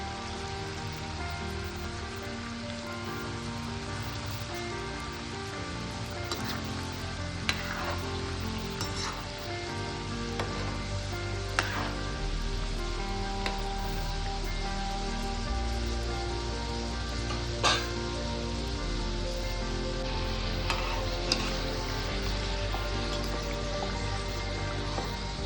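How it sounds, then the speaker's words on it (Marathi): Pumpkin modak frying one by one in oil over low heat, a steady dense sizzle and crackle with scattered pops running throughout, fairly close, with no talk over it. "आता आपण हे एक एक मोदक आपण तेलामध्ये तळून घेऊया. मंद आचेवर आपल्याला हे मोदक तळून घ्यायचे आहेत."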